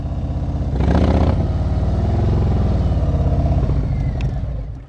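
A motorcycle pulls away smoothly in first gear during a slow-speed riding exercise, its engine a steady, close mid-range drone that swells briefly with a little throttle, then settles and eases off at the end.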